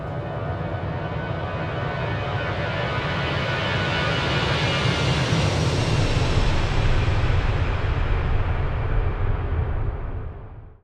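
Steady broadband engine roar heard from the flight deck of an Airbus A320 in a flight simulator game on approach into Paro, constant and loud for the whole stretch, rising slightly midway and then cutting off at the end.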